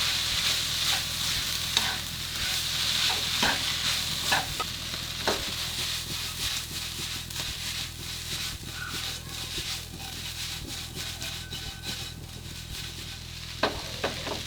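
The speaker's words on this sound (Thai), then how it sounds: "แล้วก็ผัดนะครับ ผัดให้เข้ากัน ทำง่ายมากๆ" Salted chicken with garlic and pepper is stir-fried in a pan, producing a continuous sizzle with repeated scraping spatula strokes and a low steady hum underneath, close and moderately loud.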